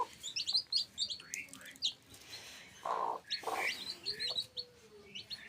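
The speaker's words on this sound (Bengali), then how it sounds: "দেখেন ওই বাচ্চাটা ডিমের ভিতরে হা করতেছে।" A chick inside a hatching hen's egg gives a series of thin, high, repeated chirps, close and fairly faint, with brief pauses between calls.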